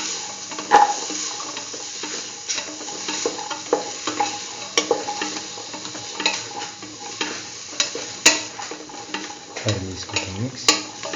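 A Hausa potato and Chinese potato stew is stirred in a pot, with steady scraping and sloshing strokes over a low sizzle and occasional clinks of the utensil against the pot.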